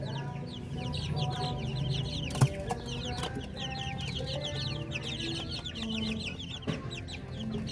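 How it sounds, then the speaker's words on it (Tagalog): Chickens cluck steadily while newly hatched chicks peep in a high, continuous chorus, all close by at a farm, with one brief sharp knock partway through and no talking. "nadagdagan na naman yung ating mga alaga mga sisiw"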